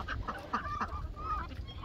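Ducks quacking and honking in short bursts from a muddy yard, several calls close together, moderately close over low background noise.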